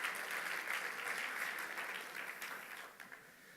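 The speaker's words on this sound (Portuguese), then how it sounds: "Uma salva de palmas para eles." Church congregation applauds during a sermon, a dense, steady wash of many hands clapping at moderate distance that slowly fades toward the end, with no talk over it.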